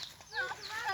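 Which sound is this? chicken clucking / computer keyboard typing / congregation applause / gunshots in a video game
chicken clucking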